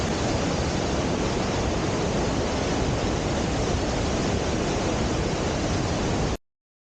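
Rhine Falls roars close by as a dense, unbroken rush of falling water, loud and constant, then cuts off abruptly near the end.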